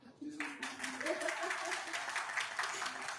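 An audience at a Guatemalan school event breaks into applause after a faint voice, the clapping swelling quickly and continuing as a steady, moderately loud patter to the end.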